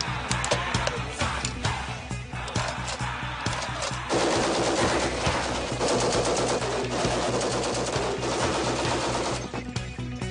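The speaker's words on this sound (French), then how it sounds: "Et ici, on tire à la mitrailleuse de chars d'assaut." A tank machine gun fires in long, rapid bursts at Sturgis, loud and dense, with the rattle continuous and intensifying partway through.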